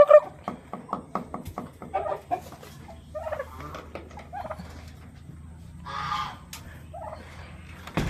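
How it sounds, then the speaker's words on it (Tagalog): Chickens on a farm cluck in a run of short, repeated calls close by, with a few louder squawks breaking in and a steady low hum underneath. "Sa kabila guys, may isa pa tayong manok."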